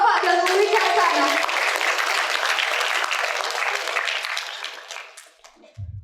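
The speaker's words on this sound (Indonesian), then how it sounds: "Kita beri tepuk tangan untuk Bapak Danu Wicaksana" Warm applause from a crowd at a university webinar session, dense and steady with children's voices mixed in, gradually fading over several seconds before a brief murmur at the end.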